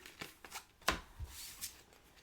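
A deck of playing cards is shuffled at a board-game table, giving a few quick riffling bursts and soft slaps, one sharp snap standing out, close and clear with no talk.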